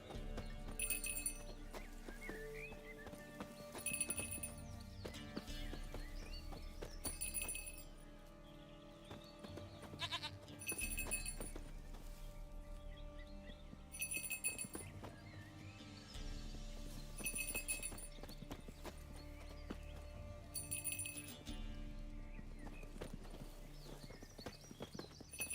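Horse hooves clip-clop in a steady gait in The Witcher 3, moderately close, joined by game music and periodic bright jingling tones.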